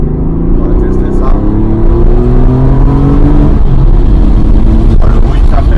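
A Porsche 964 Carrera 2 accelerating hard on a forest country road, its flat-six engine rising in pitch through the revs, then dropping and climbing again after a shift, heard loud from inside the car.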